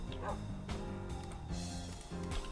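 A dog in the Minecraft video game gives soft, repeated yips and barks over steady game background sound, fairly quiet and rhythmic.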